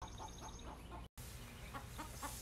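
A local rooster clucks in a quiet, steady run of short, soft, rhythmic calls, with a brief gap partway through. No voices are heard.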